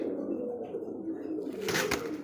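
A female Rasgolla pigeon coos in a low, steady drone close by, ending with a brief bright rustle or flutter near the end.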